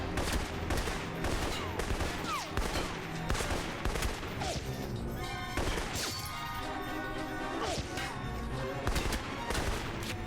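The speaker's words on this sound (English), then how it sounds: "How'd they not hear the gunfire" Rapid gunfire from the video game Alpha Protocol in a Taipei level, dense overlapping shots and bursts with crashes, loud and continuous throughout.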